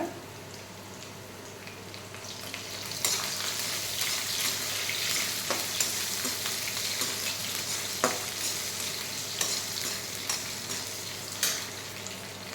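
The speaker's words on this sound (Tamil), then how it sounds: "உருளைக்கிழங்கு நல்லா ஃப்ரை ஆகிடுச்சு பாருங்கள்" Potatoes fry in a pan, giving a broad continuous sizzle that swells louder partway through, with occasional scraping strokes of a spoon as they are stirred; no speech.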